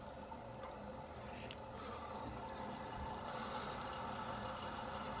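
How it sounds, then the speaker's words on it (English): Toilet tank refilling after a flush gives a faint, steady rush of running water with a low continuous hum, distant and even throughout, with no talking. "So we're going to let this fill up, and we're just going to test it that the toilet now flushes."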